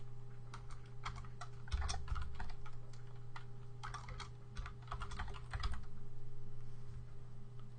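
Computer keyboard keys being typed in a steady burst of close, crisp clicks while entering a line of code, with a constant low hum underneath and no talking.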